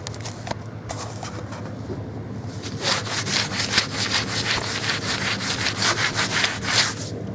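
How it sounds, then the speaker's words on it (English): A damp cloth rubs back and forth across a hard undercoat plaster surface in quick, steady strokes that grow louder and more rhythmic. "you can use a damp cloth to re-wet it and smooth out and clean off any areas"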